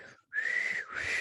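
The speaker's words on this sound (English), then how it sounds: "I can't whistle very well." A person whistles a short two-part tune, a clear sustained tone that breaks briefly and then resumes, close and alone.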